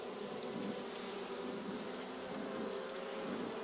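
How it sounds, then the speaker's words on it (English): Honeybees from a newly installed nucleus colony hum steadily at an open hive, a dense continuous drone close by with no speech over it. "They're already bringing a little bit of that bee juice down into their hive."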